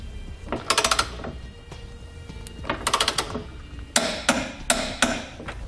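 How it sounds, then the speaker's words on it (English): A torque wrench and ratchet tightening CURT Class 2 trailer hitch hardware on a 2009 Nissan Rogue, giving quick bursts of rapid metallic ratchet clicks followed by a few sharp, louder clacks, close up. "come back with a torque wrench and torque all your hardware down to the specified amount"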